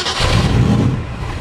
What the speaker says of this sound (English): we're going to fire it up and let you hear it